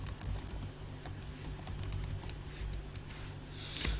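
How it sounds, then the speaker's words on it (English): Steady typing on a computer keyboard, rapid uneven key clicks close up over a faint background hum. "We'll type retained earnings in."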